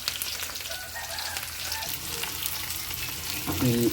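Onions, curry leaves and green chilies sautéing in a pan, giving a continuous close sizzle with scraping stir strokes and a brief clatter near the end; no one speaks.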